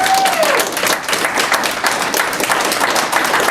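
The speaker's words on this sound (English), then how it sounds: "Please, the applause." Audience at a stand-up comedy competition applauds and cheers, a loud, dense roar of clapping with crowd noise and a brief whistle at the start, sustained throughout.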